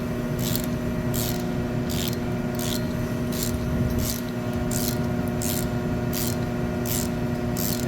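A ratchet turns a Topec 3/8-inch-drive tap socket, making a steady series of about a dozen short, crisp clicking bursts at an even rhythm over a constant low hum, with no talking.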